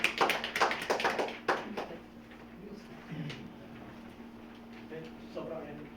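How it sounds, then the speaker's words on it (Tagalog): Congregation at a church discipleship lesson applauding, a burst of scattered clapping over the first two seconds that fades into quieter room noise with faint voices afterward. "palakpakan po natin ang Diyos sa buhay po ni Kuya Henry."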